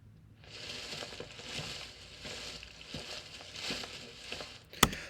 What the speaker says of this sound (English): Okay, so then when you put those together, the footsteps and the leaves, it sounds like this.